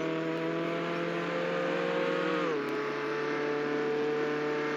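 Video game car engine driving steadily with a constant harmonic drone, pitch dropping briefly midway as it shifts or slows, loud and continuous with no talking.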